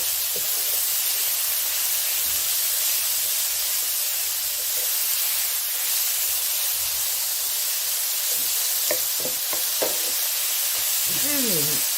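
Minced beef sizzling steadily in a hot pan for a Thai basil beef stir-fry, a constant hiss with a few brief scraping and clinking sounds near the end as the meat is broken apart.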